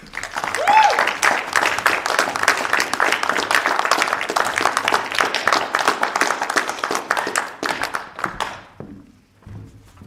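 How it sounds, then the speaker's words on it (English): High school audience at a National Honor Society induction ceremony breaks into a round of applause for the new members, dense clapping that holds steady for about eight seconds before quickly dying away. "Please join us in congratulating the newly inducted members of the National Honor Society with a much-deserved round of applause."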